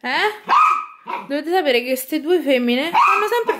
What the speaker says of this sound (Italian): chi è che abbaia come sempre?